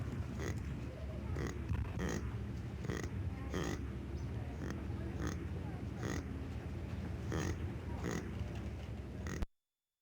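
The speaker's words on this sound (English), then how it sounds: "The baby ostrich makes this sound to call to other chicks." A baby ostrich gives a run of short, gruff grunting calls at a steady pace, repeated about a dozen times over a constant outdoor background noise, calling to other chicks at the zoo.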